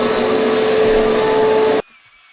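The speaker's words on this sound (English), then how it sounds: "I think all that's left is to vacuum" A vacuum cleaner runs on a hardwood floor during a renovation, a loud steady droning whine with a constant pitch that cuts off abruptly near the end, leaving near silence.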